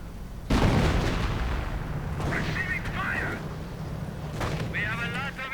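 Anti-tank gun fire in a real-time strategy war game, a loud sudden blast followed by rumbling battle noise and scattered gunfire, with a voice speaking over the action.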